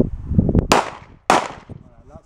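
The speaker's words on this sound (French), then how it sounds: "Là elle est chargée, elle est prête à faire feu." Two sharp 9 mm pistol shots ring out on a shooting range, each a loud close crack with a short decaying tail, with a voice talking before and between them.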